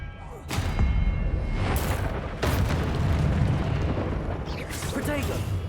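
Spell impacts in the video game Hogwarts Legacy land as repeated booming bursts and thuds amid a noisy fight, with whooshing magical effects and shouted voices mixed in.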